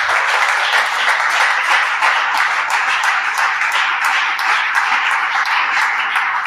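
A church congregation applauds, with continuous, dense clapping from many hands, steady and fairly loud throughout, and no voices standing out.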